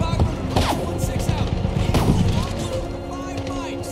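A machine gun fires in the Medal of Honor (2010) shooter, dense rattling shots and booms mixed with battlefield noise and faint voices in the background.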